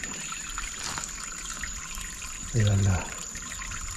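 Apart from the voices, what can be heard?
small stream of water trickling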